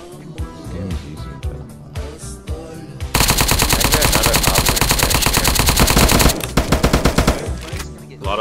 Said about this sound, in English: A lot of M2 shots.